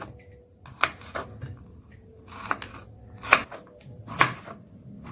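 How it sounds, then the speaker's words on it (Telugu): Garlic cloves being chopped into small pieces on a board, a handful of sharp, separate knife knocks spaced irregularly and heard close in a quiet room. "ఇప్పుడు వెల్లుల్లిపాయలు తీసుకున్నానండి, ఒక 10 రబ్బలు. ఇవి చిన్న ముక్కలుగా షాప్ చేసుకోవాలి"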